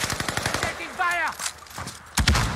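Machine gun fire in a military shooter video game, rapid bursts of shots mixed with synthesized game effects and a voice calling out in the background.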